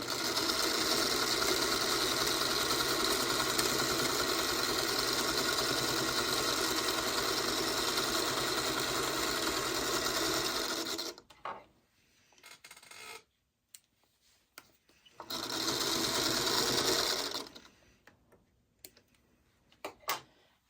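A sewing machine stitching a scrap quilt block runs in a steady, fast mechanical whir for about eleven seconds, stops, gives a short burst, then a second run of several seconds, with quiet pauses between.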